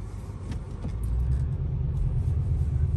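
Deep idling rumble from an Audi RS6 C8 on its stock exhaust, a low steady burble that swells slightly after the first second and holds, close by with no talking.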